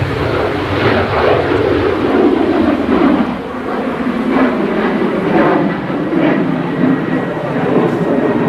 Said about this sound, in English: That's the TAP Embraer E190 going back to Lisbon.